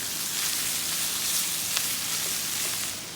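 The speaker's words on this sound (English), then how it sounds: "Getting that sausage fried up, and as you can see, onions are starting to caramelize." Sausage and onions frying in a hot pan, a dense, steady sizzle with fine crackling spatter throughout, close up and fairly loud, no voices.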